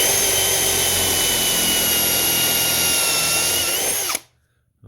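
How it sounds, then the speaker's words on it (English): A power drill spins a bit through a pocket hole in a piece of wood, a loud steady whine that holds for about four seconds and then cuts off abruptly into near silence. "if I go and drill into this middle hole here, which is B, all right, you can see the bit come through"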